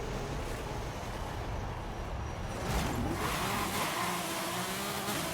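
In Forza Horizon 5, a car engine revs during a clutch slip launch, a steady mid-pitched drone that swells slightly partway through, with no talking over it.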